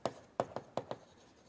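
Chalk or marker strokes on a board during a mathematics lecture, five short scratchy taps in a quick uneven rhythm, close and fairly quiet, with no voices.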